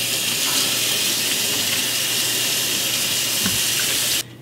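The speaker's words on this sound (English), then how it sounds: "I'll wash this cabbage." Water runs steadily from a kitchen tap over a head of cabbage being washed, a constant loud hiss with faint handling sounds, ending abruptly as the flow is turned off.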